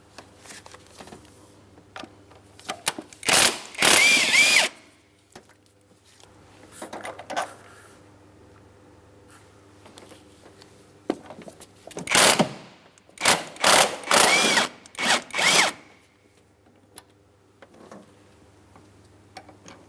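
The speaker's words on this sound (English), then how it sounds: "We're going to remove these two 18 millimeter headed mounting bolts." Power tool backing out the 18 mm transmission mount bolts on a 2008-2016 Chrysler Town & Country 3.8L V6: several short, sharp rattling bursts, with quieter clicks and clinks of metal between them, close up.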